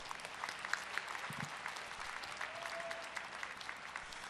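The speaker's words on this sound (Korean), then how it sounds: "오늘 학사학위를 취득한 모든 학생에게 큰 박수로 축하해 주시기 바랍니다." Applause from a crowd at a university degree ceremony honouring bachelor's graduates, a steady wash of many hands clapping at moderate distance, fairly faint in a large hall with no talk over it.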